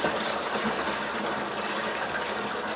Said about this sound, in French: moi, je pompe de l'eau. Je remplis des seaux et je les transvide dans un baril